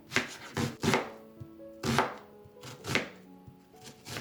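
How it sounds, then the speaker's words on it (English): A knife chops an onion on a board in uneven strokes, crisp thuds spaced out with short pauses, close and clear with no talking. "The next thing I would like to cut is my medium onion"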